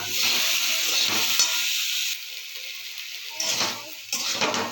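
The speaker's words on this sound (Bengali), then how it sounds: "ভালো করে একটু কষে নিয়ে তারপরে জল দিয়ে দেবো" Food is sautéed in a pan before water goes in, with a steady broadband sizzle and hiss close by that eases and swells with stirring, plus occasional soft scraping and pan knocks, and no talking.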